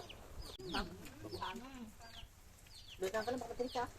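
Chickens cluck nearby in quick repeated bursts while a person speaks briefly over them.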